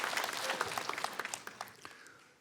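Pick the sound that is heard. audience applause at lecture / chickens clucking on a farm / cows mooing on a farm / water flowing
audience applause at lecture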